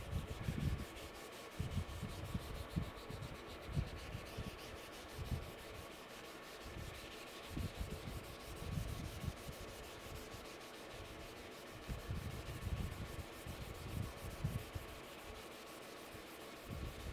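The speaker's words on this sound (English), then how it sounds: "the cut in this works really well for polishing wood, for polishing hard, dense woods." Hard, dense wood of a knife handle being polished, a steady rubbing and sanding sound with rhythmic low swishes repeating close by, no talking.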